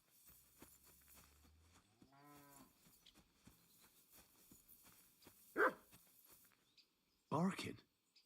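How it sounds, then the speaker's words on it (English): A dog barks in a game setting, two sharp loud yelps spaced apart near the end, after a low moo-like groan and quiet background sounds. "Barking."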